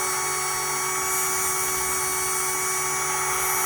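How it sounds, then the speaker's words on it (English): Sandpaper scuffs the cut surface of a wheel and tire, rubbing smooth with a steady, loud, abrasive hiss that runs unbroken throughout. "I'm gonna sand that smooth."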